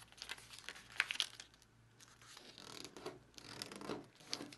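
Paper is folded for an origami flapping dragon, making soft, close crinkles and creases in scattered bursts with quiet gaps, no voices present.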